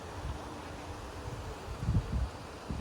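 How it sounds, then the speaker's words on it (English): Gusty wind on a cloudy day at an outdoor dog park, a faint low rumble with soft rustling swells that build briefly near the end. "Very windy today, cloudy."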